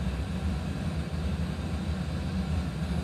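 A simulated airliner roars steadily through its takeoff roll in a flight simulator, with a loud, constant engine drone and no break.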